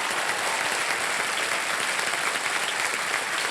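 Studio audience at the KBC quiz show applauds a contestant quitting the game, a dense, steady wash of many hands clapping throughout, loud and close, with no speech over it.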